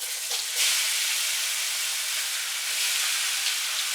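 Small cubes of chicken sizzle in a hot pan, a loud, close, steady hiss that continues unbroken with slight swells and no voices.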